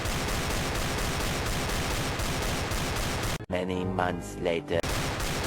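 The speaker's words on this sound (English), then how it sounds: "Deagle spam mode! Activate!" Continuous, dense rapid-fire Desert Eagle pistol shots in CS:GO, loud and relentless, stopping abruptly for a spoken line before the shooting resumes.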